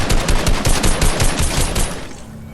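Rapid automatic gunfire in the video game Fortnite, a loud, close, steady stream of shots for about two seconds before tapering off, with no talking over it.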